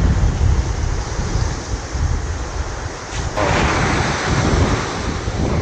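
Sea waves breaking at Sulok Beach in General Nakar, Quezon, a continuous loud wash of surf with wind buffeting, swelling into a heavier crash partway through.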